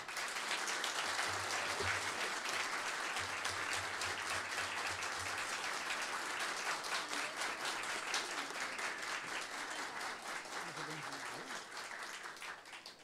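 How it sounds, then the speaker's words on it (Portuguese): A crowd gives sustained, dense applause to welcome a former Federal Revenue secretary and legal consultant onto the stage at a Brazilian event. The clapping stays loud and steady for the whole stretch without pause. "vamos recebê-lo com uma salva de palmas"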